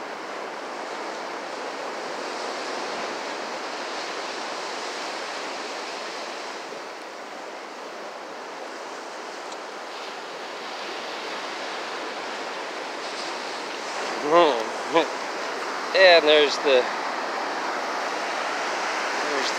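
Ocean waves break on a beach in a steady, loud wash of surf with wind over the microphone, and a few short voices come in near the end.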